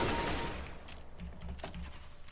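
Counter-Strike: Global Offensive gunfire, a dense burst of shots at the start that thins into scattered, sharper cracks and clicks of fire, fairly close and loud, with no talking.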